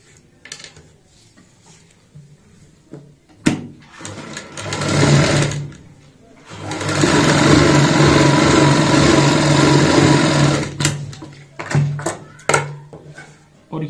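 A sewing machine stitches a strip for a designer baby frock in two loud, close bursts, the longer one running several seconds, with fabric handling clicks in between.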